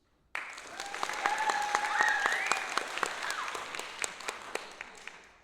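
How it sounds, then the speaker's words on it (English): A crowd bursts into applause for a performer called Spooks, sudden onset then sustained dense clapping with a few sharp individual claps and whoops, staying loud before slowly thinning. "Let's get our round of applause for Spooks."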